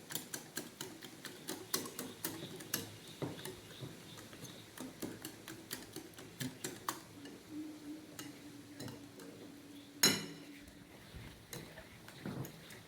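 Batter for Mysore bonda being beaten with a beater, a steady run of quick ticking, rhythmic taps against the bowl, close and moderately loud, with one sharper knock near the end and no talking.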